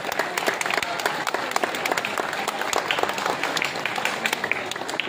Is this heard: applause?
yes